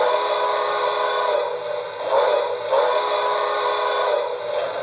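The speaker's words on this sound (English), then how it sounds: "So you have your whistle." A steady, breathy whistle tone from an American Flyer Polar Express toy train sounds continuously for several seconds, swelling slightly twice.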